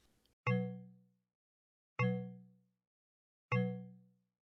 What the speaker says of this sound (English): the chimes rang through his office, consistent, insistent, impossible to ignore